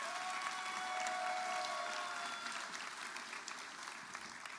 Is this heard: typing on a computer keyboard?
no